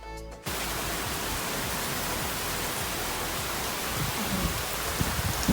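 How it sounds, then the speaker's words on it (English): Heavy rain falls outside a home in the USA as a steady, dense hiss that continues throughout, with a few faint clicks near the end. "Wow, ఎంత rain వస్తుందో as you guys can see"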